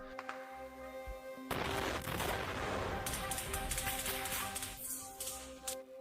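A sudden loud blast from a drone strike erupts, followed by a sustained rumbling roar, a second burst, and sharp crackling, like distant explosions over a steady hum.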